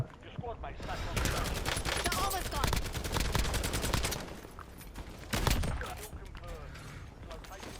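Rapid automatic gunfire in a video game, long rattling bursts of closely spaced shots that swell and fade across the clip, with players talking over the shooting.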